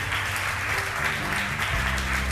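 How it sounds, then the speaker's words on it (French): An audience at an award ceremony claps loudly and continuously for a company executive, with a low steady hum running beneath the sustained applause. "vous pouvez l'applaudir"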